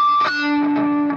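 A single distorted electric guitar pinch harmonic rings out, a high squealing overtone that sustains and shifts pitch over about a second, loud and close with no talking.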